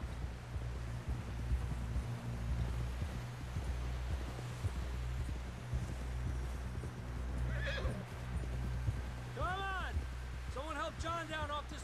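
Horses gallop in the video game Red Dead Redemption 2, their hooves drumming in a steady low rumble, with sharp whinnies and neighs rising near the end.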